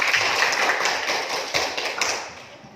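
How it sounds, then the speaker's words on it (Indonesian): Classroom applause as students clap for a classmate, Nova, after her good question: a dense, continuous patter of many hands, fairly close, tapering off toward the end. "Berikan tepuk tangan dulu buat Nova"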